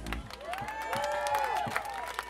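Concert crowd at an open-air cultural market applauds and cheers for a band, a dense steady wash of clapping with scattered shouts and a voice over the noise.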